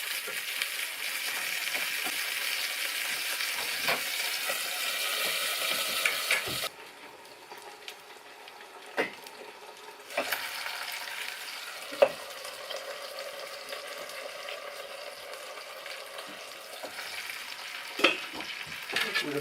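A thick steak sears in a hot pan with a loud, continuous sizzle, then the frying drops to a quieter crackle with occasional sharp taps and scrapes of the pan.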